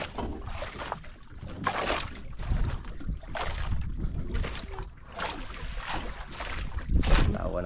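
A boat out on open water, carried on steady rushing wind and water noise with broad surging swells that rise and fall throughout, fairly close and without any voices.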